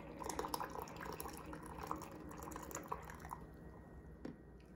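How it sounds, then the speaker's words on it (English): Slow trickle of hot water from a Panasonic 4-litre hot water dispenser, a soft steady drip-and-fill sound at close range, continuous throughout with no talking. "To use the slow drip feature, press the lock unlock button again until the light is flashing,"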